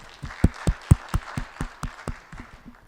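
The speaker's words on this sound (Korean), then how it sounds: "받으신 주님께 감사의 박수." A church congregation claps in unison, about a dozen sharp, evenly spaced claps that swell and then fade out, with no talking over them.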